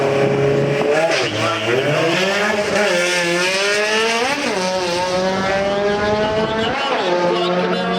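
A bolt-on Acura RSX revs hard at a drag strip starting line, its engine note climbing and dipping in repeated loud, rising sweeps, with a faint announcer's voice in the background.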